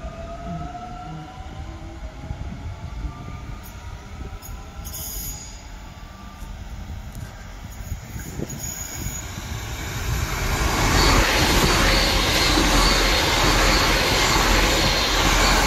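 Train at Toombul station, first a faint distant hum, then a broad roar that swells loudly near the end as it draws in close, with no talk over it.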